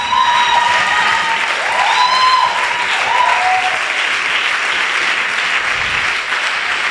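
A church congregation at a Sunday service breaking into loud, sustained applause that fills the room, with a few cheers and whoops rising over the steady clapping.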